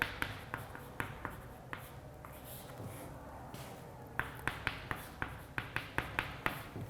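Marker or chalk taps and strokes on a lecture-hall board come in quick, irregular clusters of sharp clicks, fairly close, with a soft murmur of room noise beneath.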